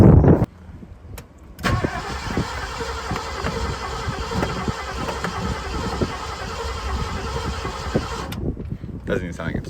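An early Ford Bronco with its choke nearly closed cranks on the starter in a long, steady rhythmic churn of several seconds without catching, bracketed by brief clunks, with a voice nearby.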